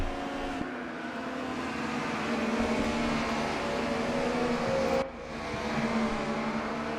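A race car in RaceRoom rolls into the pits, its engine a steady, mid-level drone with a slight shift partway through, heard alone without talk.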